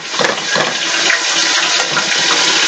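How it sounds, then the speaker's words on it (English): Tomatoes tipped into a pot of browned onions for African red stew, a loud close rush of watery liquid splashing and hissing continuously for a couple of seconds. "the onions have browned, so I'm going to go ahead and add the tomatoes."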